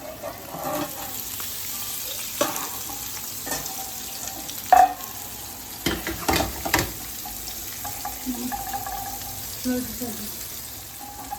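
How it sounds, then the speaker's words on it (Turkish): Bonito and anchovy frying in a pan, a soft continuous sizzle with scattered pops, clinks and utensil scrapes as pieces are turned, fairly quiet and close. "Palamutlarımı döndürdüm kızarıyor."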